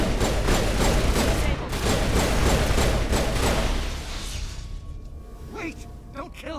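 Turret gunfire in a sci-fi shooter video game, a loud sustained barrage of rapid shots that thins out toward the end as a voice speaks over it.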